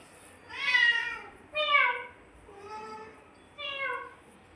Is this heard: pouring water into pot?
no